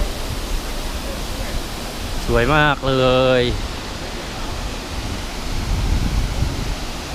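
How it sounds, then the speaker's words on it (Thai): Yong waterfall in Thailand flowing: a constant, broad rushing roar fills the scene, and a voice speaks briefly over it. "ตรงนู้นเป็นน้ำตกไหลนะ"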